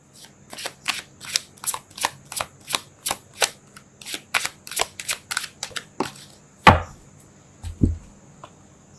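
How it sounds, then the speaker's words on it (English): Tarot deck shuffled by hand, a quick steady run of about twenty crisp riffling card slaps close by, followed by a sharper flick and a soft thud as one card is pulled and laid down, with no talking. "I'm going to pull one more card, and I'm going to pull it as a suggestion kind of card"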